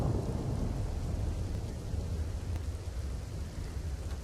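Heavy monsoon rain pours down in Navsari with deep thunder rumbling, a loud steady downpour under a low rolling roar that swells early and fades slightly.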